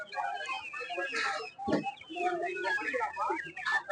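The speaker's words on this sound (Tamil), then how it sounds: "இந்த மாதிரி கோழிங்கெல்லாம் போட்டு வச்சுருக்காங்க" Chickens cluck and squawk close by in a busy, overlapping chorus at a Sunday market in Trichy, with voices talking faintly underneath.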